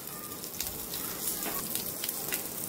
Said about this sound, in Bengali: এবারে একটু 5 ফোড়ন দিয়ে দেওয়া হবে।